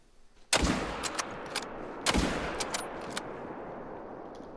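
Rifle shots at a whitetail buck on an outdoor hunt: two loud, sharp cracks about one and a half seconds apart, each followed by a rolling echo and a few faint clicks, with quiet in between.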